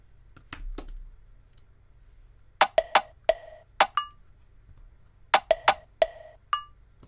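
Sampled percussion from a drum machine plugin in a pop production: sparse, dry clicks and knocks in small clustered bursts, crisp and close, separated by near silence.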